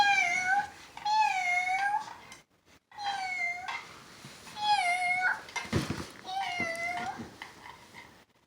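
A voice imitates a cat, making a series of about four drawn-out, wavering meows in a row, each several seconds long with short pauses between, close and fairly loud with no other sounds.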